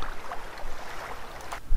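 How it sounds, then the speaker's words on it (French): Ocean waves on a recorded video soundtrack, a soft, steady rushing wash of surf noise at moderate level, with no voices. "les vagues"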